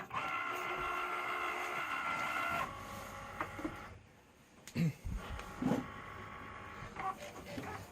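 A Cricut Maker cutting machine whirs and buzzes steadily as it cuts iron-on vinyl, then drops to softer carriage movements and intermittent clicks and thumps nearby.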